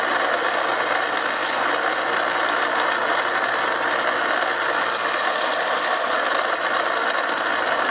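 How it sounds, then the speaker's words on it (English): Motor-driven buffing wheel polishing the metal of a Mauser custom rifle part with rouge abrasive, a loud steady whirring hum with faint rattling that holds constant throughout, with no talking. "You're buffing it off, you're polishing it, is what you're doing."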